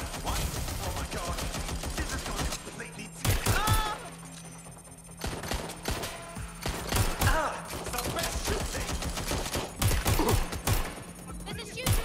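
Video game gunfire in Watch Dogs Legion: repeated bursts of shots and heavy thumps, loud and close, under a steady mechanical background with voices talking over it.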